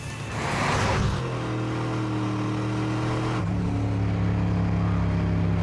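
The Chicane street machine's engine revs hard at about three-quarter throttle, a loud, close, sustained roar that steps up in pitch twice as it climbs, with no talking.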